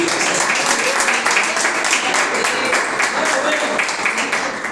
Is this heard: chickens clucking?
no